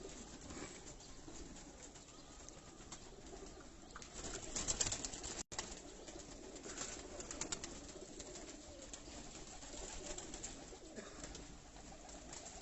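Breeder pigeons coo softly and steadily in their loft, low murmuring calls over a faint background, with a brief rustle of wings partway through and no talk.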